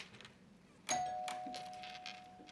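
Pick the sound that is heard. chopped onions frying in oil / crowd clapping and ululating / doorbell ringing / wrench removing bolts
doorbell ringing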